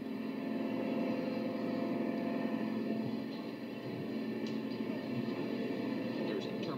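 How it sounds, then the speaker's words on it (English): A continuous mechanical rumble and hum of a small train running steadily, with faint clicks and rattles over the top. "A model version of one of the GSMR trains."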